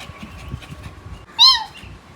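A single clear, close cat meow rises and falls briefly, standing out above a quiet, murmuring room background.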